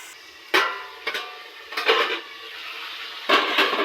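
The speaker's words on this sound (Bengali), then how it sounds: "আরো পাঁচ মিনিটের মতো ঢাকা দিয়ে দিচ্ছি" A metal lid is set onto a pan of frying bitter gourd and vegetables, giving a few sharp clanks and rattles spaced over several seconds against a quiet background.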